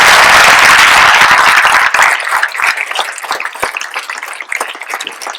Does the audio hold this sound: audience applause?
yes